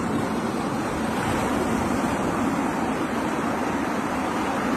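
Sea waves on the shore at Shankarpur make a steady, loud rush of surf with wind noise and no distinct breaks, and no voices are heard.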